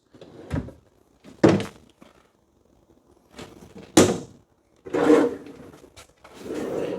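Drawers in a 2026 Alpine Avalanche 379MB fifth wheel camper kitchen, solid construction rated for 75 pounds, slide open and shut close by, giving several sharp wooden thunks and rolling rubs spaced over a few seconds with no talking.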